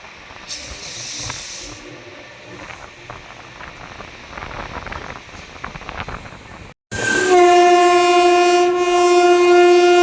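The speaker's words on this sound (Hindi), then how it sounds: "सामने से कोई ट्रेन भी आ रही है, देखते कौन सी है। अरे गुड्स ट्रेन है, ये मालगाड़ी है।" A goods train rolls past with a steady rumbling, clattering roar, then a loud, sustained horn blares close by and drowns everything after a brief cut.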